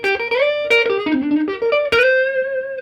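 An electric guitar plays a short jazzy lead lick built on a major 7th arpeggio, quick picked notes rising and falling before settling on a sustained final tone, played alone and close.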